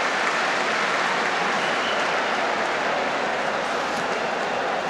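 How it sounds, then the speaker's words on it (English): Loud, dense stadium crowd roaring and cheering at a 2006 FIFA World Cup football match between Brazil and France, a steady wall of noise with no break. "The crowd at fever pitch now."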